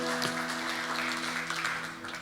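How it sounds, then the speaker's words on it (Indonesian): A church congregation at a Sunday service applauds with a soft, continuous patter of many hands, sounding somewhat distant against a steady background hum. "Beri tepuk tangan buat Tuhan dulu saudara"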